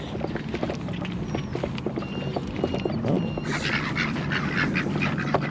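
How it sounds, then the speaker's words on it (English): Ducks quack repeatedly at a community fishing pond in Arizona, a busy chorus of calls near the listener over steady outdoor background noise, growing denser toward the end. "Freaking ducks. You guys will get used to that."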